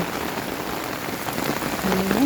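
Heavy storm rain pours steadily in a dense, continuous hiss, growing slightly louder toward the end, with a faint voice briefly audible near the close.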